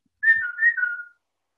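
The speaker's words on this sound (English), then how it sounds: "I also have a whistle that she uses to know that treats are coming." A cat-treat whistle sounds one clear, close, sustained whistle lasting under a second, its pitch wavering slightly, with nothing else heard.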